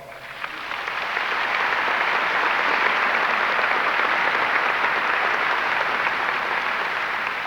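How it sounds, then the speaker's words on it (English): Graduation audience at a high school ceremony bursts into sustained applause, rising within the first second into a dense, steady wash of many hands clapping that continues without talk. "Please join me in thanking that person through your applause."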